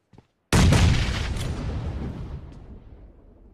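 A loud bomb explosion in a video game, a sudden heavy blast that booms out and then decays slowly over about three seconds, heard on its own after a brief faint sound.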